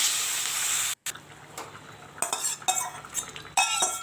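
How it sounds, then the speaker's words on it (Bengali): Water going into a pan of frying potatoes seasoned with salt and turmeric, heard as a loud sizzling hiss, a brief gap, then rattling stirs and clinks of a utensil against the pan, with no talking. "তো এখন এই যে জল দিয়ে দেবো।"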